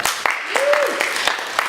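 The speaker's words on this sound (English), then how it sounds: "Please give him a round of applause" A live hypnosis and NLP conference audience gives a brief round of applause, soft scattered claps over a steady room hiss, with a voice briefly sounding over it.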